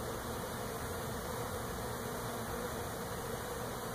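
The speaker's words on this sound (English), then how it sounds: "maybe dozens of bees now flying up in the air versus thousands before" A swarm of bees, now only dozens in the air, flies around a bee trap outdoors, giving a steady, even buzzing hum that carries through the whole stretch without a break.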